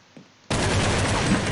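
Gunfire in the video game Counter-Strike 1.6 on the cs_assault map, a brief quiet pause then a sudden dense burst of rapid automatic shots that continues loud and unbroken to the end.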